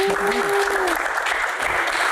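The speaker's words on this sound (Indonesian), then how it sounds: "Tepuk tangan, luar biasa." Audience applause at a Q&A session on the art of acting, steady dense clapping from a crowd filling the whole stretch, with a voice briefly talking over the start.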